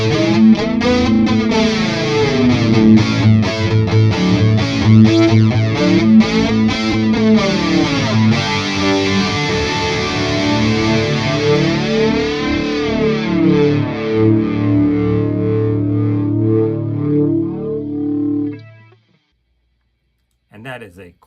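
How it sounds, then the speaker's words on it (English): High-gain electric guitar played through an amp's distorted channel with a TC Electronic SCF stereo chorus flanger pedal, sweeping whooshing flange over sustained chords for most of the stretch before cutting to near silence, then a brief final strum. "Let's check out some of the flanging sounds that are possible."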